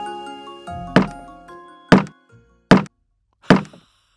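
A hammer strikes wood in a carpentry workshop, four sharp, solid knocks spaced roughly a second apart, close and loud against near silence.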